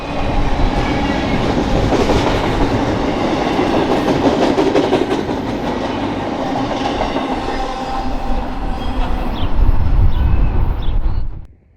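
A BNSF priority intermodal freight train rolls past on the Southern Transcon in Arizona, its loud, steady rumble and rhythmic wheel clatter filling the scene before cutting off abruptly near the end.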